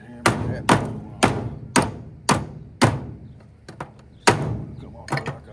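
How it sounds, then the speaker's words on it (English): A hammer knocks a heavy brass piece off a metal part, giving about eight sharp, ringing metallic blows at uneven intervals, close and fairly loud, with no talk over them. "I'll take a hammer and tap that one off."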